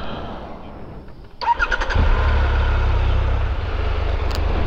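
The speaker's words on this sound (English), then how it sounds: "Prepare to start your engines." Motorcycle engines start up on a touring stop in the Pyrenees region, a brief starter whir followed by a steady, close idling rumble that holds to the end.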